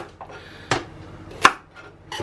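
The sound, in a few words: chopping food with a manual chopper gadget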